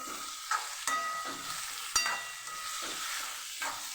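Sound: stirring frying alkuno sambharo in pan

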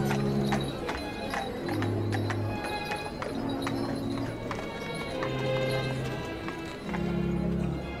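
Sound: horse hooves of a horse-drawn tram, sound effect

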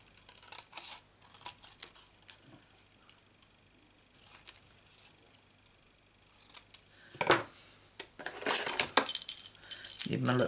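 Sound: small scissors cutting out card

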